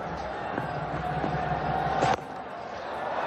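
A crowd in India applauds a batsman's half-century at a 2019 India v Australia T20I cricket match, a steady broad roar of clapping and cheering that cuts off abruptly partway through, then continues more quietly.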